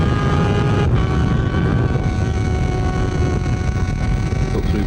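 A Kawasaki ZXR 750 motorcycle engine screams at high revs on an Isle of Man TT lap, a steady loud drone with wind rush, dipping briefly as the rider flicks through bends.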